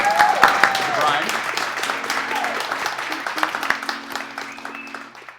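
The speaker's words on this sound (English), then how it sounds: "why don't we give a nice round of applause to Dan" Audience applause at the close of an evening event, a dense patter of clapping that fades gradually over several seconds while a voice speaks briefly at the start and some faint tones sit underneath.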